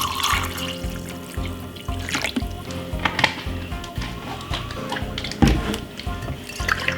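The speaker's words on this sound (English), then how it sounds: "Fill up your glass." Water pours and trickles into a glass in a kitchen, a steady close-up gurgling flow with small drips and clinks, running continuously for several seconds with no talking.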